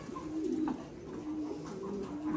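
A breeding pair of Thai Titan meat pigeons cooing, soft low repeated coos close by over light farm background noise.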